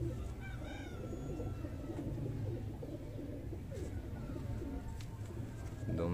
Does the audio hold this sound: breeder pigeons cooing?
yes